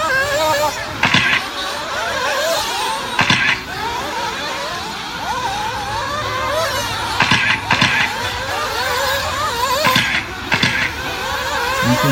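Several nitro RC buggies race around a track in a main event, a loud continuous high-pitched buzzing of small engines rising and falling as they pass, with a few sharp knocks and an announcer talking over them.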